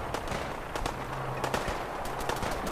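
Automated gunner turrets in a settlement-building video game fire at a large creature, a rapid stream of sharp, crackling shots mixed with distant impacts and a faint whine, fairly steady throughout with no talking.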